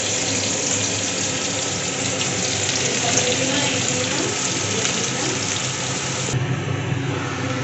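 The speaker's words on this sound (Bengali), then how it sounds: "এবার পেঁয়াজ রসুন এগুলোকে ভেজে নেব" Onions and garlic fry in a pan in a home kitchen, giving a loud, dense, continuous sizzle that stays even throughout with no talking.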